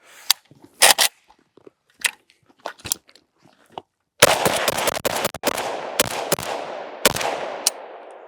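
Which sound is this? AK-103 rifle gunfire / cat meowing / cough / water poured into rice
AK-103 rifle gunfire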